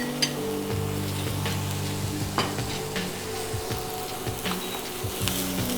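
Boiled peas and green beans hit a pan of garlic and fry with a steady, close sizzle, while a spoon scrapes and stirs now and then.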